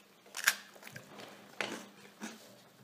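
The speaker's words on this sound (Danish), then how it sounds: "og nu kan I se mig spise kiks" Someone bites into crunchy biscuits close by in a quiet room, giving three short, crisp crunches spaced about a second apart with faint chewing between them.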